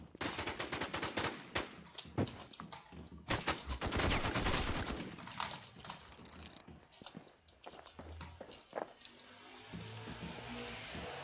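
Rapid bursts of gunfire crackle in quick volleys, loud and sharp, then thin out into scattered shots and movement noises during PvP in Clearview in the video game Infestation: The New Z.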